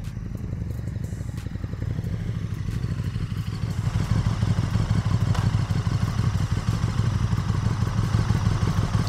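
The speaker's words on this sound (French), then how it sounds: "Et on va bien voir que la moto s'immobilise." A motorcycle rolls up close and pulls in to park in front, its mid-pitched engine rumbling steadily and growing louder before settling, with no talk over it.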